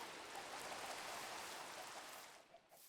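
Steady rain falls in Minecraft, a dense, even hiss of drops lasting throughout at moderate level, with no talking over it.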